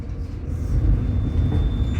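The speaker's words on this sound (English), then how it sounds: "Tram is accelerating." Low, steady rumble of the Luxor tram in Las Vegas accelerating, a close, continuous mechanical drone that swells slightly in loudness over two seconds, with no voices.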